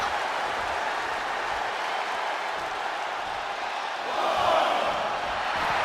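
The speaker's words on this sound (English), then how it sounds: "Just listen to this crowd." Wrestling arena crowd in the WWE 2K26 video game, with a sustained roar of cheering and applause that swells briefly near the end, alone without talk.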